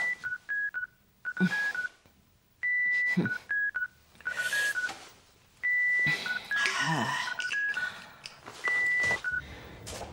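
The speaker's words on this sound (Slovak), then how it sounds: "Skúste jej zavolať na mobil." Telephone keypad dialing tones from a busy office, short DTMF beeps in quick bursts with pauses between them, loud and close, with brief voices and other background sounds between the beeps.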